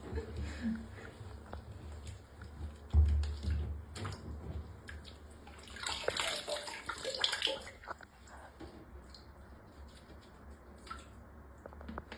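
Water poured and trickling into a small cup of orchid seedlings, a soft, close splashing and dripping that swells midway and then fades to faint trickles.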